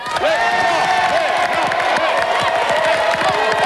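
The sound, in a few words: studio audience applause for a game show team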